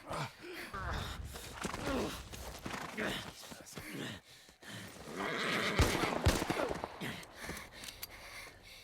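A horse whinnies several times in the video game The Last of Us Part I, amid frantic, overlapping voices, with a brief clatter of hooves and movement in the background.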